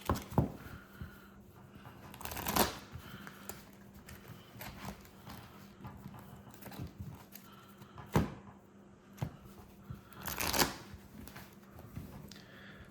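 Pokémon trading cards are shuffled by hand in a few brief riffling bursts separated by soft handling noises, close and fairly quiet.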